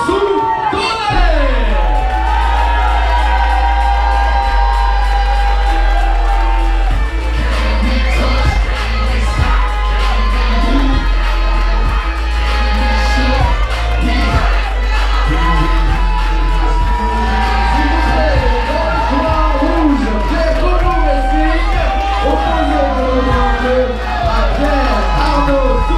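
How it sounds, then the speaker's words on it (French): A boxing crowd at the Apollo Boxing Nights event in 2015 shouts, whoops and cheers for Pierre-Arnaud Donnet, rising and falling over a steady low rumble while voices call out nearby. "Je vous demande de faire un tonnerre d'applaudissements pour Pierre Arnaud Soupaïsou."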